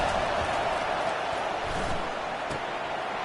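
Stadium crowd in an American football video game, a steady broad roar of cheering fans on third down, distant and sustained, with faint thuds under it and a commentator's voice over the din.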